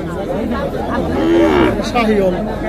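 A Sahiwal heifer calf moos loudly and close by in a long, rising call, with faint voices chattering in the background.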